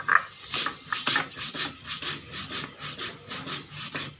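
Spice paste is ground by hand on a traditional stone slab, making close, rhythmic rasping strokes that repeat steadily back and forth, about two per second, with no talking.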